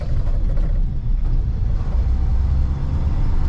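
A 1985 Chevy K10 short-bed pickup with 53k miles, driving in third gear with a crisp throttle, gives a steady low engine rumble that holds at an even, loud level throughout with no voices.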